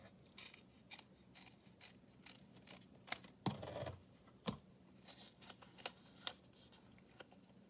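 Scissors snipping through material for a DIY pumpkin craft, a quiet close-up series of crisp irregular cuts with a rustle of handled paper in between.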